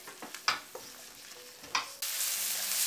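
Chole being stirred in a kadai after a half teaspoon of coriander powder goes in: a few scraping spoon strokes over a low sizzle, then a steady frying hiss building louder toward the end.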